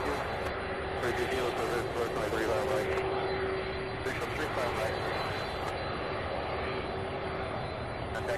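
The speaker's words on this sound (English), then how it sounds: "An American Airlines flight that just took off from 35 right there heading to Miami. Airbus A319." An American Airlines Airbus A319 climbs out from runway 35 at Louisville, a broad steady jet roar rumbling continuously at moderate distance, with a faint tonal whine riding over it and voices talking at times.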